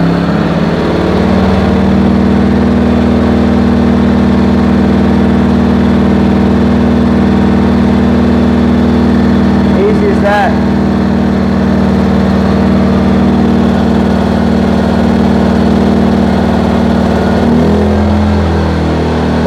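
A Predator 2000 watt portable generator engine runs steadily at idle with no load, a loud, even mechanical drone held throughout, with a brief click partway through and no voices.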